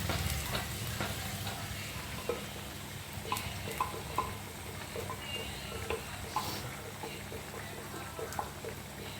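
Egg stew mixture being stirred into onions in a pan, with a steady sizzle and frying hiss throughout and soft utensil scrapes and taps scattered over it.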